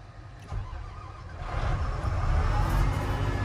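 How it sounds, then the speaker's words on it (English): A combine harvester engine cranks and starts in the farming game Farming Simulator 22, a quiet low turnover building into a louder, steady diesel rumble over a few seconds, without talking. "next thing we gotta do is start the combine"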